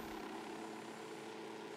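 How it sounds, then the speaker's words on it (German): Drone launched in the tactical shooter video game Ghost Recon Wildlands, a steady whirring propeller drone hum close by, faint overall and without speech. "ich hau schon mal eine Drohne raus"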